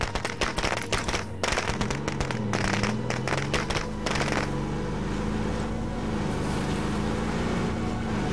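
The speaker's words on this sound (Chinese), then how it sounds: "没有，结果其实我放了鞭炮。" A dense, loud string of rapid firecracker pops set off in the zombie survival game State of Decay 2, crackling for several seconds over a steady engine-like drone that continues after the popping stops.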